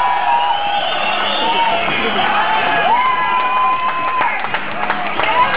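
A Czech crowd at a strongman competition in Plzeň roars steadily with cheering and whoops, a loud, sustained wall of voices with scattered applause and a few sharp shouts rising above it.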